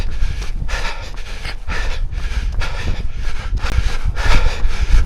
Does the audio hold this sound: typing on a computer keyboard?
no